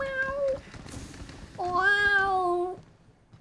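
A person imitates a cat with two loud, drawn-out meows: a short one, a pause, then a longer wavering one.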